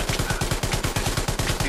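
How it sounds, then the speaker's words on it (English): Rapid automatic gunfire in the World War II shooter Hell Let Loose, a dense continuous rattle of shots fired close and loud throughout with no pauses. "if you keep shooting me as I try to reload"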